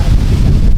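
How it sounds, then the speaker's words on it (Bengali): Strong wind buffeting the microphone at an outdoor pigeon flying competition in Kolkata, a loud, steady low rumble that continues unbroken throughout with no voices. "এত জোরে হাওয়া দিচ্ছে"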